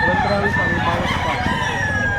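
Rooster crowing at a chicken market in Batangas, a long drawn-out crow rising over a loud, dense crowd of voices and other birds, people talking throughout.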